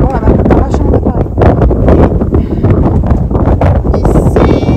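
Strong wind in San Francisco buffets the microphone in loud, continuous roaring gusts that swell and dip throughout, with a faint high tone near the end.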